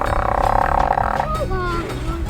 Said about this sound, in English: How is she making that noise with her trunk?